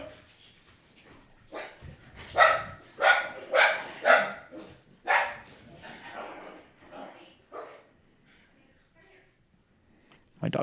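Dogs, including a small one, bark in a quick run of sharp, loud bursts indoors, then trail off into softer yips and whimpers; quiet talk is faintly present.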